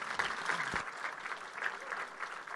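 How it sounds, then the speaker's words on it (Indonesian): Audience applause at a seminar session on the credibility of New Testament miracle accounts, a steady round of clapping filling the room and sustained for several seconds without a break. "Kita boleh berikan aplaus sekali lagi untuk"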